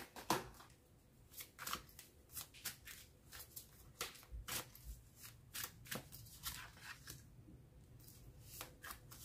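Tarot cards are shuffled by hand in soft, irregular riffles and slides, with quick rustling bursts and pauses, close and quiet.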